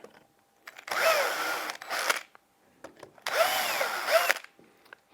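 Cordless drill-driver with a 2 mm bit pre-drilling wooden compost bin slats, heard as two close, loud whirring bursts of about a second each, with a pitch that shifts under load, separated by short quiet gaps and clicks.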